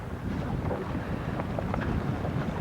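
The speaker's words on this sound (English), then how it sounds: "Oh, it's quite windy." Strong wind buffets the microphone while out on a sailboat, a steady broadband roar with water and hull rumble underneath, continuous and loud throughout with no talking.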